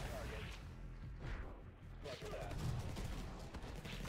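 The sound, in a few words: rocket strike explosions in video game Infested Planet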